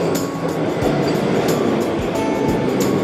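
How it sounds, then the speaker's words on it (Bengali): A Vande Bharat train rushes past a station platform, a loud continuous roar of wheels and carriages with rhythmic clacks over rail joints, close and steady throughout. "ব্ল্যাক ডায়মন্ড এক্সপ্রেস আমাদের সামনে দিয়ে বন্দে ভারত বেরিয়ে যাচ্ছে"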